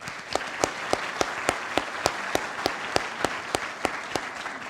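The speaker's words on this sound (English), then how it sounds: "I just want to give one more round of applause to them" Sustained audience applause at a military change of command ceremony, a dense wash of clapping with sharper individual claps standing out in a steady rhythm, moderately close and without speech.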